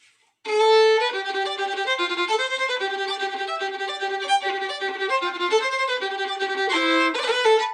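Rapid, even violin sixteenth notes run in a quick continuous stream, bowed lightly and smoothly, bright and close with nothing else heard.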